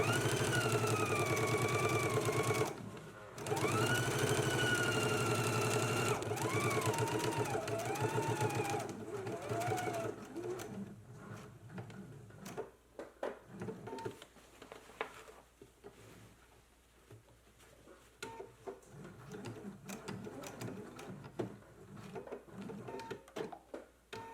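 Sewing machine top stitching a jacket: a voice talks over a steady hum for the first ten seconds, then the machine runs in uneven bursts of rapid stitching with short pauses.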